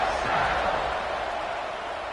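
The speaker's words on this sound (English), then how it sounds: "this crowd is buzzing after that last score" A football stadium crowd buzzes after a score, a dense, steady roar of many voices filling the whole stretch at an even loudness.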